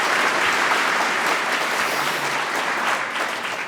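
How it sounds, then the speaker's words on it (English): Applause for a speaker at the PyCon UK 2023 lightning talks, a dense, steady round of clapping from a sizeable audience that fades slightly toward the end. "Big round of applause,"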